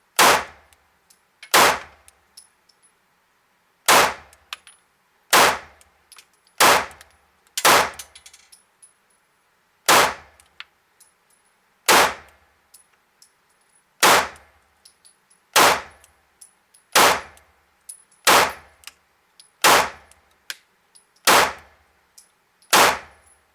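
Smith and Wesson pistol firing about fourteen sharp, loud gunshots at uneven intervals, some in quick pairs or bursts with short gaps between, each crack ringing briefly.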